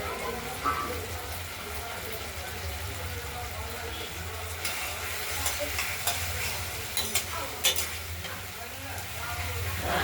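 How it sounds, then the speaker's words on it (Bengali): A ground spice paste, being cooked down for a paneer curry with potato and tomato, is stirred repeatedly in a frying pan, irregular scraping scrapes over a continuous low sizzle, near and fairly steady. "মশলাটা থেকে তেল বেরোয়নি, আমরা বারে বারে নেড়ে দিচ্ছি।"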